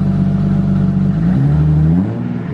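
A BMW E30 engine revs loudly through a cheap muffler exhaust, a deep steady drone that climbs in pitch before dropping off as the revs fall near the end.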